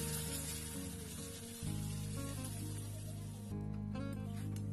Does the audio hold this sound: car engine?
no